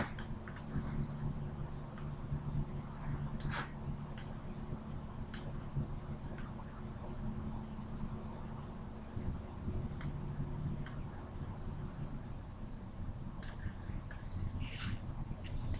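Sharp mouse clicks on a button in desktop test software, a dozen or so scattered at irregular intervals over a steady low hum, close and fairly crisp.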